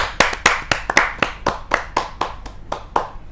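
Steady applause from a small audience at a Hindi kavi sammelan greets a poet as he takes the stage, with a dozen or so crisp, evenly spaced claps close by and no voices.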